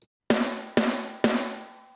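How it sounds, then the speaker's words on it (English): Three sharp snare drum hits, evenly spaced, each with a bright crack and a ringing tail that decays slowly, played alone. "Oh, I blended in a one shot for the snare."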